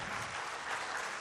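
An audience at an academic gathering claps in sustained applause, many hands beating densely together in a steady, evenly loud wash with no break.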